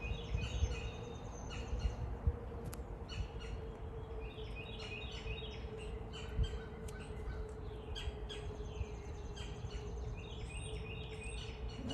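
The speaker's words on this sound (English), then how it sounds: "Crows are squawking." Crows squawk in the distance in Virginia, sounding as scattered harsh calls over a faint, steady outdoor hum, with no one speaking.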